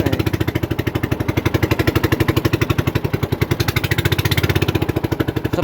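A motorcycle engine is revved hard while riding through a strongly flowing water current in a ditch, producing a rapid, loud, pulsing engine chug that holds steady with slight swells.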